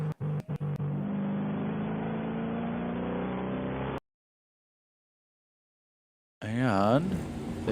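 Onboard engine drone from a race car circling Daytona in a sim racing game, a steady loud hum with a few sharp clicks at the start, cut to silence midway, then a brief burst of rising revs near the end.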